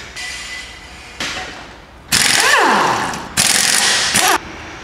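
A jack raises a VW Passat in close, loud bursts of mechanical ratcheting and grinding, three or four strokes with short pauses between them.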